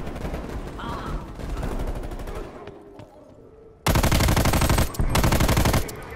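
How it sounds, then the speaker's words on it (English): Video game shootout gunfire: a busy stretch of shots and action gives way to a brief lull, then loud, dense bursts of automatic fire erupt close up, with a short break before a second burst. "I keep shooting them, and then they shoot me back"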